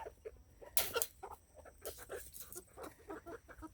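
Chickens cluck and peck close by in scattered, irregular bursts, with one louder squawk early on; no talk.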